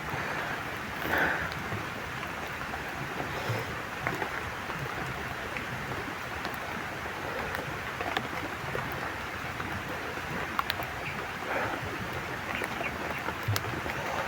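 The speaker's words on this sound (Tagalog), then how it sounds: "So ulan na naman." Steady rain hisses continuously, a soft even wash of falling drops with no voices, fairly faint and unbroken.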